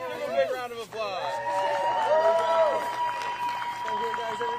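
A crowd at a disc golf All Star Weekend applauds and cheers the winning team after the final singles matches. The clapping is steady and loud, with lively voices and shouts mixed in throughout.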